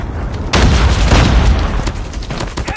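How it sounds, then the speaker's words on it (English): A Predator missile explosion in the video game Call of Duty: Mobile, a sudden loud boom followed by a rumbling roar that slowly fades over a couple of seconds, with no voices. "Predator missile inbound."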